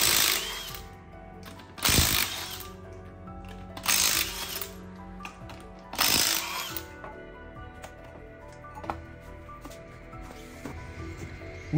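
Wheel coming off a Nissan X-Trail on a jack stand: three loud, evenly spaced bursts of a power impact wrench rattling lug nuts loose, separated by quieter clinks and handling noise of tools and metal parts.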